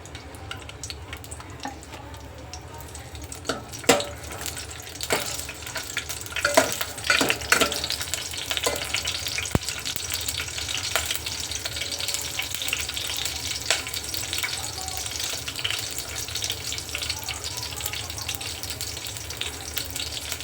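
Chopped green chillies fry in oil with a continuous soft crackle and sizzle, broken by occasional stirring knocks and a sharp clink, moderately close and fairly quiet.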